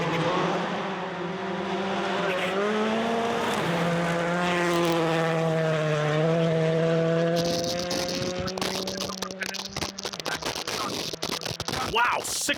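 A Skoda rally car accelerates hard up a hill on a gravel rally stage in Canterbury, its engine climbing through gears with a long, loud, sustained note and crackling shifts toward the end.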